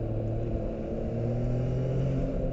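MV Agusta Turismo Veloce Lusso motorcycle engine held around 5,000 RPM, throttle rolled on and off so a steady, close, full-bodied drone swells and eases slightly without any break.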